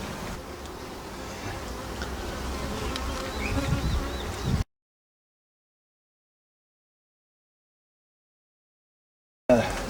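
A dense swarm of honey bees hums steadily around an opened beehive frame crowded with brood and honey, loud and close, before cutting to silence and returning briefly at the end.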